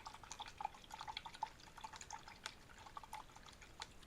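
Water drips and trickles while paint is rinsed from a brush during a painting session, a run of small, quick droplet ticks that stay fairly faint and close, with no talking over them.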